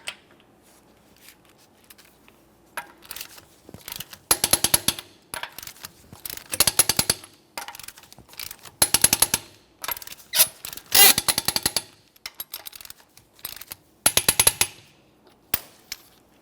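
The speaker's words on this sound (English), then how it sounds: "We're going to be torquing these in a crisscross manner to that 90 foot-pounds." Lug nuts on a 2015-2019 Subaru Outback wheel being torqued to 90 foot-pounds in a crisscross pattern, heard as a series of sharp, rapid ratcheting clicks in separate bursts, with short quiet gaps between nuts.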